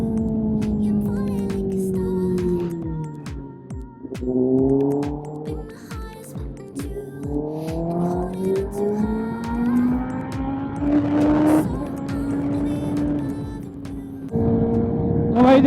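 A Kawasaki ZX10R motorcycle accelerates on a foggy road, its engine note rising and falling through repeated gear changes, loud and close throughout with brief dips between shifts.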